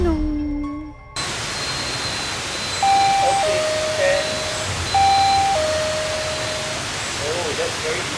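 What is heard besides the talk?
sensor chime going ding dong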